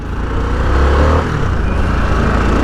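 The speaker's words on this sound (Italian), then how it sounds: "Vedete con la mappa sport il motore veramente" A 2021 Harley-Davidson Sportster S in sport mode pulls away under acceleration, its engine a loud, close, low rumble that rises briefly, then holds a steady throaty drone.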